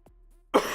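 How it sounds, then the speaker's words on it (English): A single sharp cough from a tired streamer erupts abruptly near the microphone after a brief faint throat sound, loud and alone with no talk. "And also this sodding cough."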